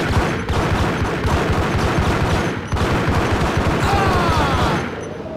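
Gunfire in the Max Payne video game: loud, continuous rapid shots in dense bursts, with a brief dip in the middle, close and dominating throughout.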